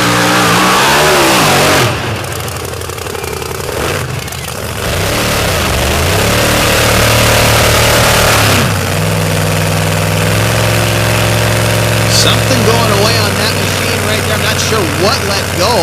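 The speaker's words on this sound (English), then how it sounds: "The big block Ford-powered rear-engine machine from right here, Lee County Mud Motorsports Complex." A big block Ford-powered rear-engine mud racing truck makes a run at Lee County Mud Motorsports Complex, its loud engine rising and falling in pitch as it revs, with talk layered over it.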